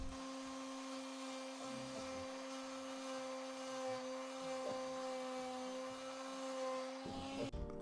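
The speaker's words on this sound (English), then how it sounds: "When you make a big mess, it's good to have a shop vac to clean it all up." A shop vac runs steadily, cleaning up sanding dust and debris, a close, constant whine with a hum underneath that cuts off abruptly near the end.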